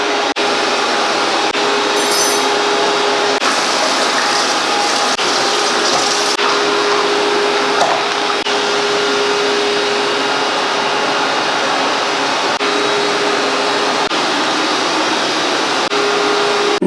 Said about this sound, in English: let me go out of the kitchen while the vacuum's in here